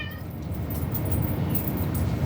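A house cat meows softly somewhere in a room, the brief calls sitting low against a steady background hush with no talking.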